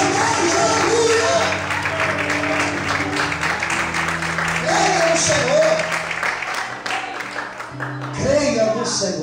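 A church congregation claps during an evening worship service, the applause mixed with lingering organ or keyboard tones and scattered voices, fading somewhat before a final swell.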